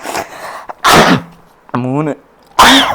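Sneezes during a sneezing challenge, several loud explosive bursts close to the microphone, with a vocal, voiced stretch between them.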